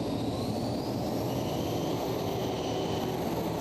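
Roaring 2,500-horsepower TV3-engined pulling tractor making a full pull at the Eurocup tractor pulling finals in Brande, Denmark, a loud, steady, unbroken drone that holds throughout.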